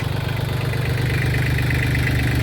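A tractor engine idles and chugs steadily at close range with a low, throbbing rumble while a bucket works over bumps in a horse arena, with no talk over it.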